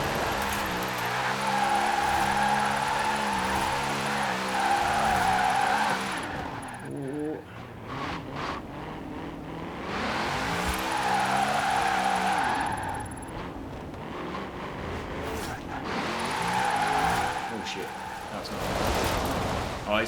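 A car in Forza Horizon drifts around corners on Fortune Island, its engine revving and whining through gear changes while tyres screech in long skids, with a voice talking over it.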